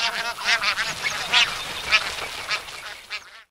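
Bar-headed geese honk repeatedly in a close, loud, overlapping chorus of nasal calls.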